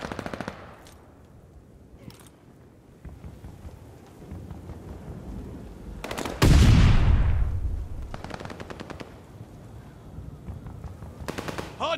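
Gunfire in a multiplayer shooter match on a hardpoint objective, with bursts of rapid shots and a big loud blast around the middle that trails off, while scattered fire and rumble continue before and after.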